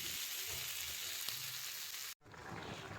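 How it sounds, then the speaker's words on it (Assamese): Peas, potatoes and tomatoes frying in a pan, a continuous close sizzle with a faint low rumble beneath, cut off sharply near the end before a quieter hiss resumes. "এতিয়া মটৰ আলু বিলাহীখিনি ভাজি লৈ আছোঁ"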